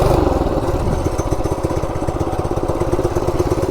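A Coleman RSV minibike runs on its stock 196cc engine, a close, loud, rapid single-cylinder putter with steady pulsing firing beats that hold without a break. No talk over it.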